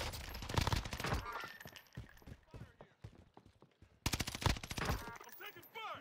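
Gunfire in the video game Call of Duty: Modern Warfare: rapid bursts of automatic shots crackle in two dense stretches, separated by sparser single shots, with voices calling out between them.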